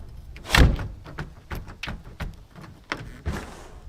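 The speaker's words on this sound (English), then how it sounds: "Oh, that door opened up." A cabin door opens with a loud thump and rattle near the start, followed by scattered softer knocks and shuffling sounds, close by and without speech.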